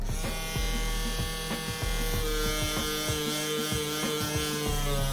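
An electric motorized tool with a steady loud buzz and whine sands a Timberland boot to take off ink, with repeated rhythmic scraping pulses against the leather, close up and without talk.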